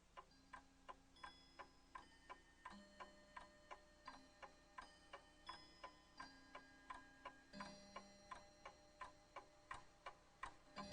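A clock ticks steadily and evenly, each tick crisp and distinct, a quiet regular rhythm with faint tonal ringing behind it.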